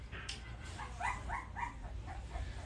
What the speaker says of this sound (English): They're making little grunty noises if you can hear those.